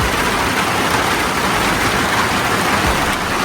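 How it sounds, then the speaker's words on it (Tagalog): Heavy rain pours steadily and loudly, a dense continuous hiss close by during a bike commute, with no other sounds standing out. "Lakas ng ulan."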